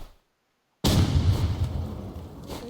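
Gunfire in the Roblox video game erupts suddenly after a brief silence, a loud, dense burst of booming shots that rumbles on steadily until the end.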